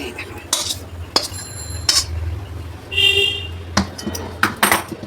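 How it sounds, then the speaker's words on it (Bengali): A cooked papaya laddu mixture is scraped out of a wok with a metal spoon, giving several separate clinks and scrapes over a low, steady background hum. "ঢেলে দিচ্ছি কড়া থেকে।"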